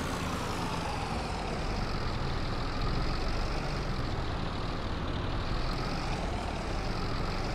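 Tractor engine running steadily in the Farming Simulator game on a farm, a loud constant droning rumble with no pauses or talk.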